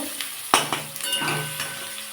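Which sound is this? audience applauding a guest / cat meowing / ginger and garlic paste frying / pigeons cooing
ginger and garlic paste frying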